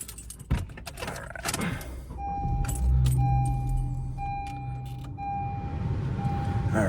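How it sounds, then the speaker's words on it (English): A black car is started by its driver: keys jangle, the starter cranks, and the engine catches into a steady idle with a faint whine, close inside the cabin. "I'm gonna turn on the car here"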